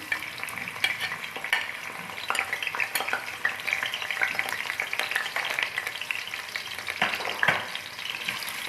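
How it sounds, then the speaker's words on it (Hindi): Onion frying in a pan with whole spices, a steady close sizzle with intermittent stirring scrapes and crackles throughout, no voices. "प्याज को फ्राई करते हैं जी।"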